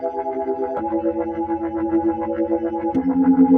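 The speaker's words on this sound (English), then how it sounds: "In combination with spread, this can almost sound like a rotary effect." PSP Audioware Wobbler modulation plugin with spread applied to sustained synth tones, giving a swirling, rotary-speaker-like warble that pulses steadily as the held notes change pitch twice.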